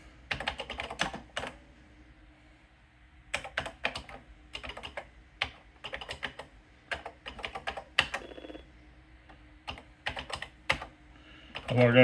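Keys clatter on an Atari 8-bit computer keyboard in short, uneven bursts of crisp clicks with pauses between, close and fairly quiet, while someone talks over them.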